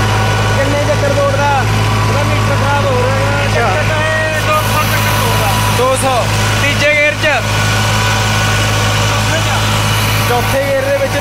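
A New Holland 3600-2 tractor pulling an 8-foot super seeder runs with a loud, steady engine drone close by, while voices speak over it.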